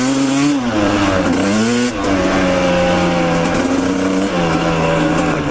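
A motorcycle engine revs loudly inside a tunnel, the pitch swinging up and down through repeated throttle blips. The roar is close and echoing, with no voices.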